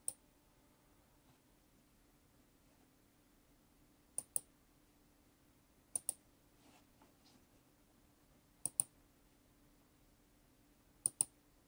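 Computer mouse clicks while updating a Gigabyte B360 DS3H motherboard BIOS: four crisp double-clicks spaced a few seconds apart, close and sharp, over a quiet low hum with no talking.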